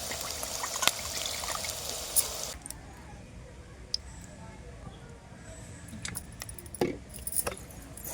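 Goat meat is washed with turmeric and salt: water pours and trickles at first, then quieter splashes follow, along with close handling sounds and light clinks of the bowl.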